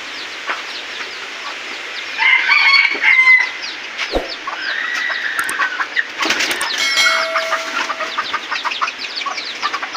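Caged wild junglefowl, a hen and a rooster, call loudly and close by. Repeated clucks and cackles run throughout, with a crow-like call, a brief flutter of wings and sharp knocks against the cage.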